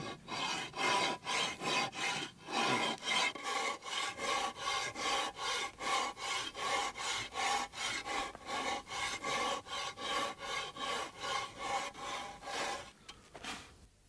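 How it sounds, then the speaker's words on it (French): A coarse file rasps over a carved sculpture to round its forms, making about two dozen steady, rhythmic strokes, each a close, gritty scrape with a brief pause between, continuing without talk until it trails off near the end. "maintenant je peux travailler à la grosse lime, commencer à arrondir un peu mes formes"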